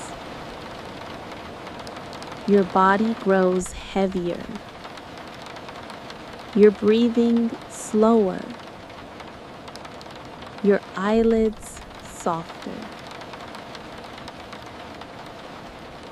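Steady heavy rain hisses throughout as a soft background wash, with a calm voice speaking slowly over it in short phrases.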